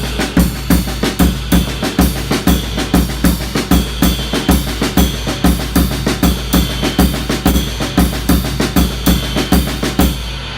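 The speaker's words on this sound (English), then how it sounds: "the Cascara is now going to be between the cymbals and the snare drum" An Afro-Caribbean cascara pattern is played on a drum kit, split between the cymbals and snare over bass drum, in a loud, steady, tightly repeating groove with crisp alternating strokes throughout.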